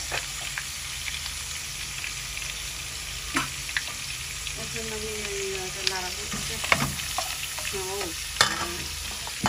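Onion frying in oil in a home kitchen pan, a faint steady sizzle running throughout with occasional stirring clinks and scrapes, no talking.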